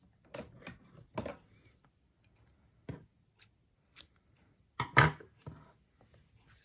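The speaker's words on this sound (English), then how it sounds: "then we can cut our yarn." Scissors snip crochet yarn close up, a few quiet sharp clicks and cuts spaced out over several seconds, the loudest near the end, in an otherwise quiet room.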